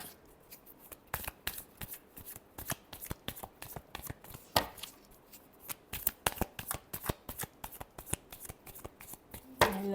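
A deck of tarot cards is shuffled in quick, irregular bursts of crisp riffling and slapping, close and clear with brief pauses between strokes.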